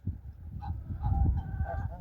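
Several domestic geese, a gander and his geese, honk close by in short, overlapping calls over a low rumbling background.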